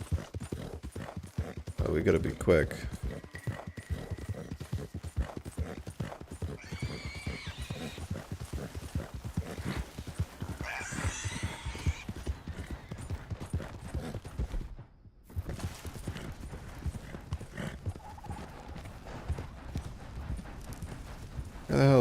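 A horse gallops in the Red Dead Redemption 2 video game, its hooves clip-clopping in a fast, steady rhythm, with a whinny and someone talking over the hoofbeats throughout.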